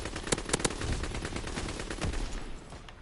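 A submachine gun firing in a video game, rapid bursts of close, loud shots with a rattling rhythm that thins out toward the end, no talking.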